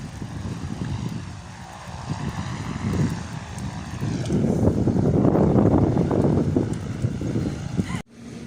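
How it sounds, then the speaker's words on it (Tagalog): Helicopters fly overhead in Lingayen, Pangasinan, with a rumbling rotor drone that swells louder midway and then cuts off abruptly, while voices are faintly present. "Mga helicopter lumilipad."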